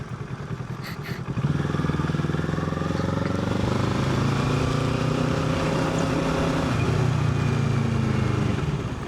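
A Kawasaki Z650 ABS motorcycle engine rumbles steadily after a brief quieter start, a loud, continuous riding drone with throttle changes and road noise.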